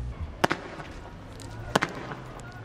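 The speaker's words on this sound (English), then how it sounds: "When protesters would not clear the way for police to reach the scene, they fired a volley of smoke bombs." Police fire a volley of smoke bomb canisters at a protest, heard as two sharp, distant pops about a second apart, each with a quick echo, over a low street rumble.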